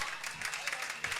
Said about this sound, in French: On peut applaudir très fort pour le pasteur Vincent Capé.